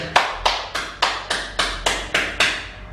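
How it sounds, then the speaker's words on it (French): Applause from a small group at the close of a muscle-strengthening fitness class, about nine sharp clap bursts spaced in a steady, even rhythm, close and moderately loud with no talking. "Vous pouvez vous applaudir"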